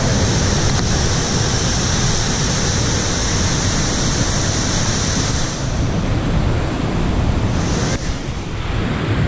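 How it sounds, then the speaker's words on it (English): A waterfall roars in steady, dense rushing wash under falling rain, loud and close, with no voices and only slight shifts in texture near the end. "And we're here at this waterfall."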